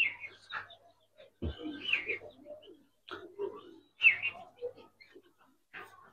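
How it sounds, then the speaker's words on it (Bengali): Old-breed Giribaz pigeons, Chhapchila Bagha type, coo in short intermittent bursts near the mic, with a brief low thump partway through and faint background noise between calls. "পুরান জাতের বাঘা কবুতর"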